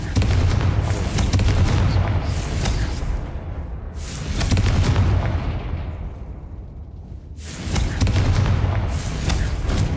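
Confringo fire spells blast during Hogwarts Legacy combat, landing as loud, deep booms in three big surges, each rumbling and fading before the next.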